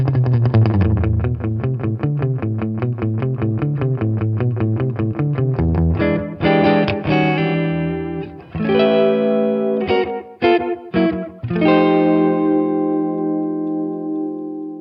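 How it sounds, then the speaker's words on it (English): An electric guitar plays through a tape-style echo pedal: a picked rhythmic pattern whose notes repeat and smear into decaying echoes, followed by sustained chords and staccato stabs that trail off, close and clear. "if you are specifically looking for an authentic tape style echo effect"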